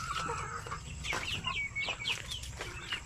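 Brooding Basilan and Zampen native hens cluck in soft, repeated calls, with several overlapping clucks and short rising notes from nearby birds over steady farmyard background noise.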